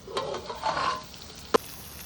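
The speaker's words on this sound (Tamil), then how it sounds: "இந்த பலாக்கொட்டை இது மாதிரி போட்டு நல்லா ஒரு கிளறி விட்டு" Jackfruit seeds fry in oil in a pan in village-style Tamil cooking, with soft sizzling and stirring scrapes in short bursts, then one sharp clink of the spoon against the pan.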